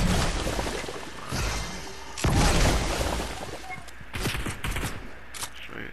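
Bursts of rapid gunfire from the video game Fortnite crackle and boom across several seconds, loud and dense with brief lulls between volleys, and a faint voice underneath.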